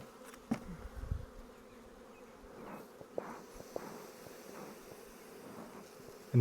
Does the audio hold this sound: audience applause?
no